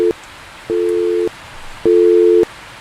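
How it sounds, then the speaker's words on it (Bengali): A telephone disconnect tone: a clipped beep, then two long, even beeps with short gaps between, loud and close with no voices. "ফোনটা কেটে গেল"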